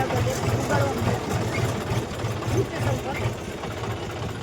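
A John Deere tractor engine runs steadily with GPS auto steering engaged while sowing a field, a low pulsing drone with faint talk over it.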